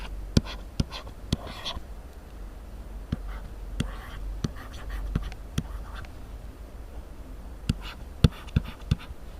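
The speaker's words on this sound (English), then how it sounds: "So now I am drawing one more structure." A pen draws a chemical structure during an organic chemistry lesson on stereoisomerism, giving soft scratchy strokes with sharp little taps at irregular intervals, close and fairly quiet over a faint steady background hiss.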